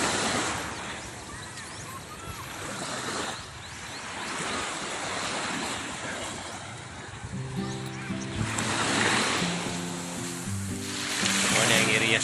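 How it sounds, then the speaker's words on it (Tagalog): Small waves wash along a beach shoreline with a boat nearby, a steady surf hiss under wind noise and a low engine-like hum toward the end. "Maliliit lang yung balod, no?"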